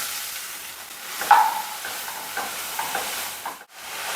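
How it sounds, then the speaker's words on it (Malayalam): Three sliced onions sautéing in about three tablespoons of oil, a soft, quiet sizzle with a few scraping stirs of a spoon in the pan, close and gentle, no voices. "മൂന്ന് സവള നേരത്തെ അരിഞ്ഞെടുത്തിട്ടുണ്ട് ഇത് ചേർത്തൊന്ന് വഴച്ചെടുക്കാം"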